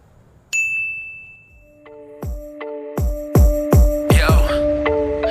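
A bright ding rings out, then a run of several quick chime strikes layered over a sustained tone, clear and close with no talking.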